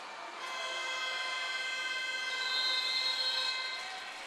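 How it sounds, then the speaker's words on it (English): A pool-side hooter blares at the end of a quarter in a women's water polo medal match, one long steady harmonic tone held for about four seconds, loud and alone over faint arena ambience. "There's the hooter."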